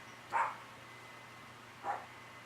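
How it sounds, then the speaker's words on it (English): A small dog barks outside on a patio, two short, fairly faint barks about a second and a half apart, with quiet background between them and no talking. "And there's my little dog barking."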